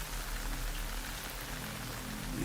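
Steady, dense rainfall in the video game Metal Gear Solid Delta: Snake Eater, pattering on a surface, a continuous wash of drops with no breaks and no voices.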